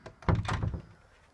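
A household door shuts with a solid thump and a brief rattle, close and loud, then fades into quiet room tone.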